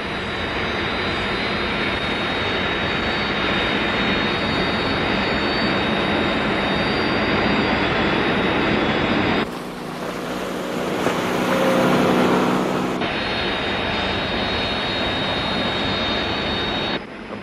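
Search aircraft jet engine in the LEGO Thunderbirds video game, a loud continuous roar with a steady high whine, broken mid-way by a brief shift in tone before the steady roar returns.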